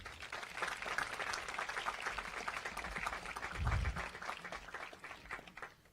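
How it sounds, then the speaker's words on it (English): Audience at a 2018 high school graduation commencement applauds with steady, dense clapping that fills about six seconds and swells briefly midway before tapering off. "Can we give them a round of applause?"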